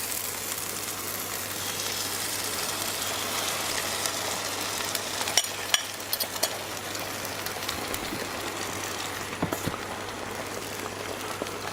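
Onions frying and sizzling in a pan during omelette preparation, a steady close crackling hiss with occasional sharper pops, heard on its own with no talking.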